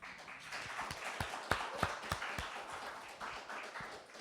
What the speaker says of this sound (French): Allez-y, on peut applaudir.